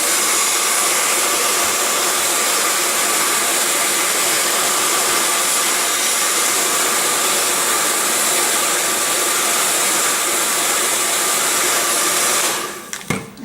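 A heat gun warming foil skin to work out bubbles blows a loud, steady airy roar that holds without a break, then cuts off abruptly with a few handling knocks at the end.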